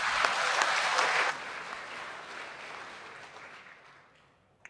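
Audience applause at an event honouring a professor, a dense burst of clapping that is strongest at the start and then thins and fades out over several seconds.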